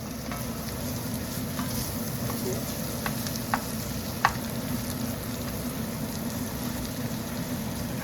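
Diced bacon sizzles steadily in a pan on a home stove, a constant hiss broken by a few sharp pops and crackles, with no talking.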